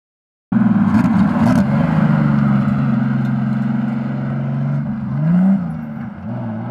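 A 1991 Ford Sierra turbo competition car with an M52TU25 engine drives on an old landing strip. Its loud, close engine drones steadily, then the pitch swells briefly near the end before settling. No one speaks.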